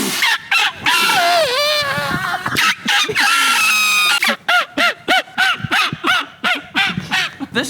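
A turkey call device is blown to mimic a turkey, giving nasal honking yelps and then a quick run of short, rhythmic clucks, loud and close.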